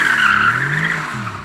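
A Mercedes AMG GT R Pro sliding with its stability control switched off, with a loud, close, sustained tire squeal and engine drone that hold steady for the whole moment.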